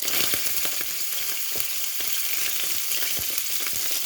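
Butter melts and sizzles in a pan, a steady close crackling hiss with faint scattered pops and stirring knocks, heard alone without any talk.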